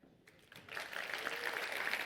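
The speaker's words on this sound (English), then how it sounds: "so I appreciate the claps" An audience at a business talk breaks into applause that starts sparse and quickly swells into a steady, fairly distant clapping that continues to the end.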